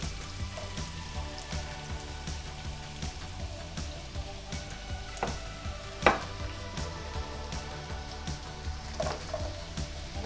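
Onion, celery and carrot frying in a pan, a steady broadband sizzle and crackle with scattered pops and one sharper clack near the middle, no voices.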